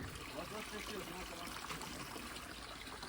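Steady water running from a tap, a continuous trickling stream without pause, fairly close and even in loudness.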